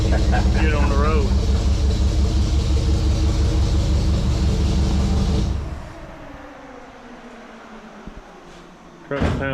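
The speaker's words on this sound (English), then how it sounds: "Truck sounds amazing." Someone's Mack truck engine runs with a loud, deep, steady rumble close by, then drops away to a quieter background as voices talk briefly.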